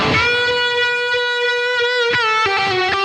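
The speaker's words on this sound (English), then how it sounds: "when you bring in the control button, it brings in a vibe pedal." A sustained electric guitar note, played through a Boss GT-1000 multi-effects unit with a vibe effect engaged, wavers with a swirling, throbbing modulation, followed by a few picked chords near the end.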